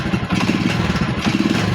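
A Euro 150 motorcycle engine revving up and misfiring, a loud, rough and uneven mechanical drone that stutters throughout the short clip with no talking.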